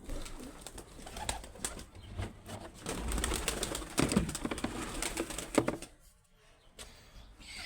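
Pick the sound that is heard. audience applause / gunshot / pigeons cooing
pigeons cooing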